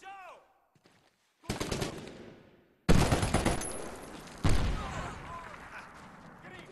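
Loud bursts of automatic gunfire in the 2012 video game Medal of Honor Warfighter come in three sharp volleys with rattling decays, after a quiet start with faint radio-like chirps; voices shout among the shots.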